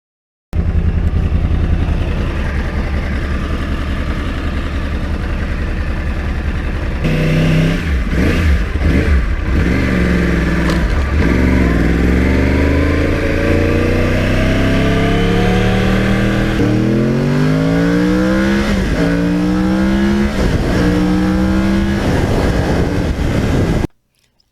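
A 2009 Yamaha R1 crossplane sport motorcycle engine, loud and close, idles and then revs repeatedly, with sharp blips and rising sweeps in pitch, and no talk.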